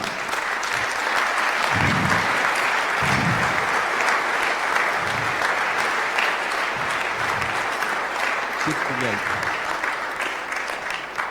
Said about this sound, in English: let's start off with a real big round of applause